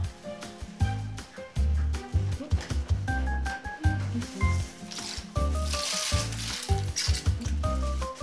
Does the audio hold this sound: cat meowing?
no